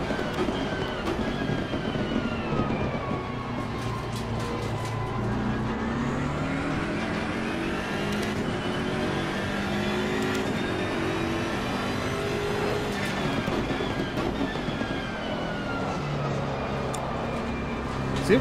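A race car engine in Assetto Corsa Competizione drones steadily and loudly throughout, its pitch rising and falling with gear changes and braking, with no pauses.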